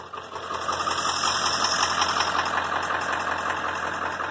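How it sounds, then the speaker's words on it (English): Ford F-250 diesel truck engine idling nearby, a loud steady mid-pitched rumble with a faint knocking clatter that holds evenly throughout, alone without talk. "I have it running so you can hear the engine noise and see the tack."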